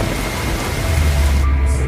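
A nighttime rainstorm in a film about a village, steady broadband rushing rain with a low rumble building underneath, loud and continuous, no speech.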